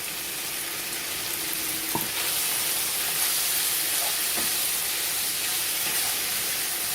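Canned Rotel tomatoes sizzle in a hot pan for taco lasagna, a continuous loud frying hiss with a few faint clinks, and no one speaking.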